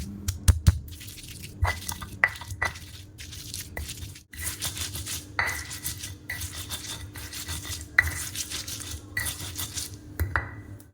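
Chili, garlic, shallots and candlenut are ground in a home kitchen for a stir-fry spice paste, giving irregular scraping and knocking with brief clinks, fairly close and without talk.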